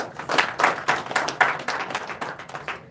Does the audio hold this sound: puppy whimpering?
no